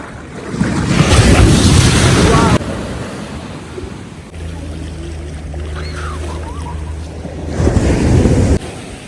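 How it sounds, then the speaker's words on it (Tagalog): Large ocean waves break at a beach in Barangay Omawas, Maydolong, Eastern Samar, giving loud broadband surf rushes at the start and end, with strong wind buffeting and a steady low engine-like drone in between. "ay yung malalaki ang waves"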